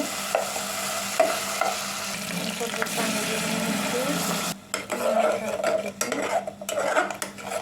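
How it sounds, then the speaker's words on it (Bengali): Garlic and ginger paste frying in a pan, a steady sizzle that is cut off part way, followed by stirring clatter, a few utensil knocks and a faint hint of water. "রসুন বাটা আদা বাটা দিয়ে একটু ভেজে নিতেছি"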